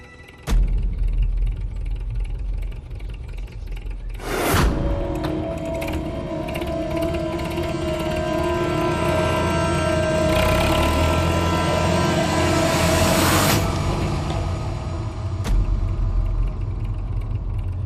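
A tractor engine runs steadily in the open with a mechanical, clattering drone, a loud rattling burst near the start and a sharper rattle around the midpoint; no one speaks.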